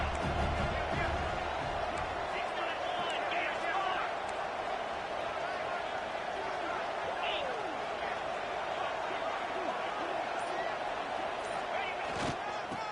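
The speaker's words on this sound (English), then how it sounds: "the crowd coming to life here, trying to help this defense down in the red zone" A stadium crowd in a football video game roars steadily throughout, a dense continuous cheer beneath a commentator talking over it.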